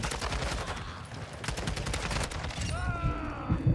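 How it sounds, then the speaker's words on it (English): An airstrike in the video game Modern Warfare 2 during ranked play: a dense, rolling barrage of blasts and gunfire fills the mix, with a rising whistling tone near the end and a few heavier thumps. "Hostiles called in an airstrike."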